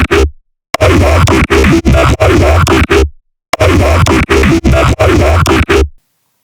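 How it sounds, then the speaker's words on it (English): Serum synth bass with a talking, vowel-like growl run through a ring modulator, heard as two loud bursts of choppy, rhythmic stabs separated by short silences. "But first I'm adding a ring modulator."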